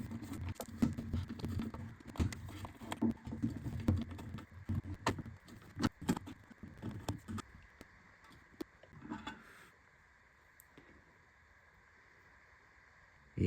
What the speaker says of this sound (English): now I'm going to unscrew the carburetor from the tank, and it's just 5 Phillips